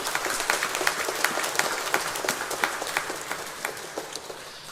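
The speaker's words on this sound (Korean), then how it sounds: "건강하게 또 일상으로 돌아가게 해주신 주님께 영광의 박수 한번 올려드리겠습니다." A church congregation at a Sunday worship service claps together in a steady, moderately distant round of applause that fades slightly toward the end.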